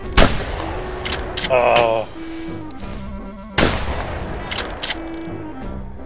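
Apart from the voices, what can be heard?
gunshots in video game theHunter: Primal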